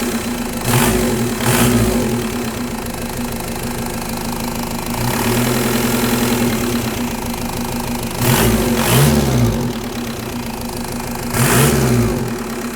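A diesel engine on an MK1 VW M-TDI idles low and steady with a rattly, knocking throb, while the revs swell briefly and repeatedly in short blips over the steady idle, close and fairly loud.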